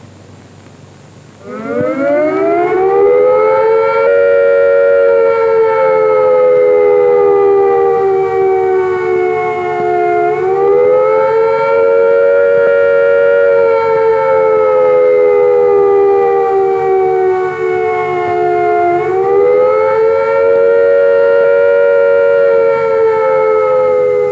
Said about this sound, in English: Here are the warning sounds again.